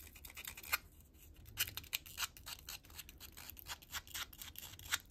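Edges of a paper ID card are distressed with quick, close scraping and snipping strokes, irregular bursts of dry scratchy sound at low volume with no talking.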